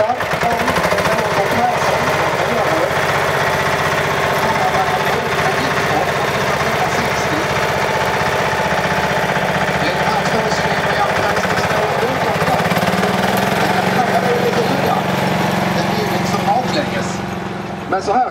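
Vintage tractors rumble by at a tractor parade in Degeberga, a continuous loud engine drone mixed with crowd noise. Someone talks over it through a loudspeaker the whole time.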